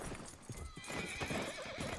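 A horse in Red Dead Online whinnies over a quick patter of hooves, close and fairly loud amid game ambience.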